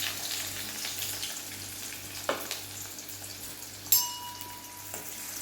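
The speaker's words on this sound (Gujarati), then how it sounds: "હવે આપણી ડુંગળી લાઇટ બ્રાઉન કલરની થાય ત્યાં સુધી આપણે એને શેકવાની છે" Chopped onion fries in oil with a bay leaf, two cloves and a piece of cinnamon over a low flame, giving a quiet, steady sizzle broken by a couple of sharp utensil clinks.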